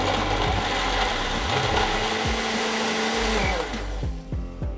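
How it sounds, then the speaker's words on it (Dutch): A kitchen blender roars loudly and steadily while blending a cucumber smoothie. The motor pitch sweeps up and down as the load shifts, then drops lower and rougher near the end. "Terwijl die aanstaat, maak ik een smoothie in de blender."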